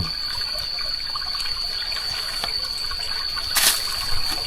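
Continuous trickling and bubbling of a forest stream, close and steady, with a faint high tone running throughout.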